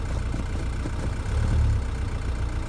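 A 1982 Mercedes 240D diesel engine idles steadily up close, a low rumbling throb that holds an even, unchanging speed and rises slightly in loudness partway through.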